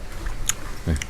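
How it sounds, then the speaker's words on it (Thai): Close, moist chewing of wild rubber fruit (mak yang pa), a couple of short soft bites and squelches over a low background hum. "ลองมาเคี้ยวนะ"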